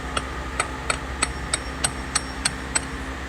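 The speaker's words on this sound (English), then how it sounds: "now with the hammer we're gonna hit the end of this CV axle, just really gentle" A hammer taps the end of a rear CV axle on a 2007 Toyota Sienna 3.5, about nine light, evenly spaced metallic knocks, close and distinct over a faint background hum.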